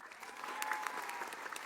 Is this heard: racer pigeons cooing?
no